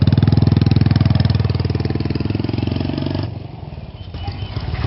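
A modified vehicle engine pulses loudly and close with a rapid rhythmic throb, then eases off into a lower, quieter rumble while being test-driven through the gears.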